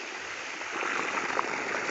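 Water gushes from the outlet of a newly fitted 5 HP openwell motor pump, a soft, steady rushing splash that swells slightly after the first moment and continues evenly without speech.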